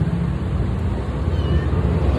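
A hungry little brown stray cat meows up close, its short calls running over a steady low background rumble for about two seconds.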